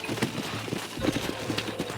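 Horse hooves clip-clopping in Red Dead Redemption, a Western video game on PC, in a steady rhythm of close, moderately loud hoofbeats over a low background rumble, with a faint whinny.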